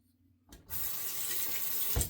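Water from a tap starts after a brief quiet moment and then runs steadily and fairly loud, a continuous broadband splashing that holds to the end with a small surge near the close.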